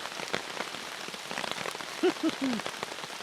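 Steady rain patters on a tent roof during a stealth camping trip, a continuous dense drumming close overhead, with a few brief low creaks near the end.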